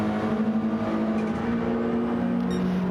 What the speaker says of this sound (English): You can hear the Lexus